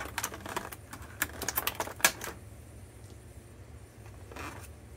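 Sharp snips and clicks come from cutting small plastic tabs off a NECA Teenage Mutant Ninja Turtles action figure's packaging, a quick cluster of close cuts followed by fainter rustling.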